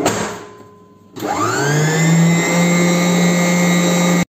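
A blender whirs up to speed, mixing trileçe cake batter for a Turkish caramel cake, a loud steady motor whine that holds on continuously after a short quieter start.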